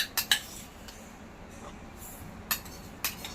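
A metal spoon adding sesame seeds to a mixture of roasted peanuts and dried coconut, giving a few sharp, light clinks against a steel bowl, close and spaced apart over a quiet kitchen background, with no talking.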